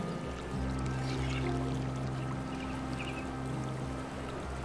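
Water pumped out fast in the video game Timberborn makes a continuous rushing, pouring flow, steady and fairly loud throughout, with a low droning hum underneath.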